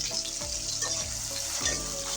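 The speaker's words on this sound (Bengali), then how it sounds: "পেঁয়াজটা আমি ভালো করে লাল লাল করে ভেজে নেব।" Chopped onions fry in oil in a wok, giving a constant close sizzle with quick stirring scrapes.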